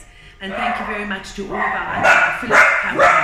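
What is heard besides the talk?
dogs barking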